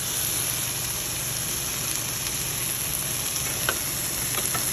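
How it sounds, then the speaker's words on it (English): Asparagus sizzles in a pan on a stovetop, a steady, close hiss of frying with a faint hum behind it and a couple of light clicks, unbroken throughout, with no talking. "I'm going to let the asparagus cook for a little bit longer."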